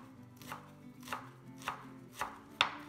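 A knife chops fresh parsley on a board in five separate, evenly spaced cuts, the last one sharper. Each cut is a crisp, close thunk over a quiet background with a faint low hum.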